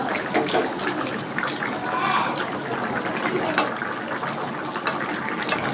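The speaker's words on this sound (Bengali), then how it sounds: "এবার আমি জল দিয়ে দিচ্ছি।" Water poured into a pot of jackfruit and chicken curry, a steady gushing pour heard up close across the whole stretch.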